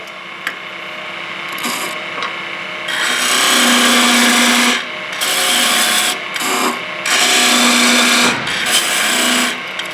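A lathe gouge cuts into a spinning wooden rolling pin handle, loud rasping scrapes in several separate passes of a second or two each, with quieter motor hum between them.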